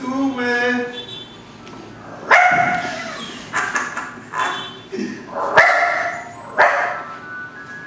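A dog whines, then gives several sharp barks spaced a second or so apart, close by, with a voice talking in between.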